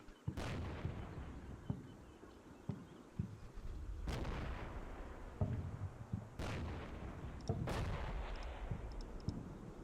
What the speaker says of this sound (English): Nice little rocket to the side there, Chap.